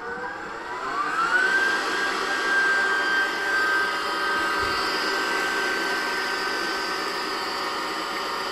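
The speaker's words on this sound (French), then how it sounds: "on va utiliser un batteur avec le fouet" An electric hand mixer with a whisk attachment beats cream for a raspberry tart, a loud, steady high whine that rises as it spins up, then holds a constant pitch throughout.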